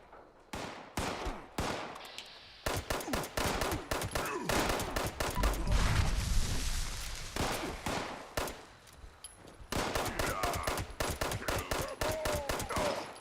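Gunfire at a super mutant in Fallout 76: dense bursts of rapid shots in long strings, close and loud, with a few brief pauses between volleys.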